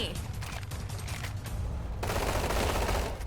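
Rapid bursts of Roblox gunfire crackle and rattle, with a denser volley toward the end.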